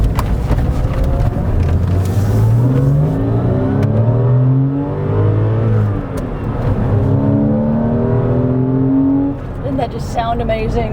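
A Porsche Boxster S sports car engine revs and accelerates through several rising gear pulls on a town road, loud and close from inside the car, with brief dips between shifts.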